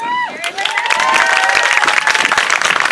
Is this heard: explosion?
no